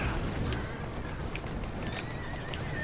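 A horse in Assassin's Creed Syndicate whinnies over a steady clatter of hooves, set against a constant dense background of street and carriage noise, with no voices clearly present.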